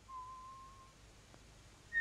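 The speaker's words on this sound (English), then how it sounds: "he heard somebody whistling behind one of the closed doors." A single clear whistled tone held for about a second, faint and slightly muffled, then a brief higher whistle at the end.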